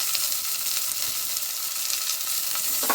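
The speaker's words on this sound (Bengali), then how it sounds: "আলুগুলো আমি দিয়ে দিলাম তেলের মধ্যে।" Steady, loud sizzling of potatoes frying in hot oil for a greens dish, a dense crackling hiss that holds evenly throughout with no voices.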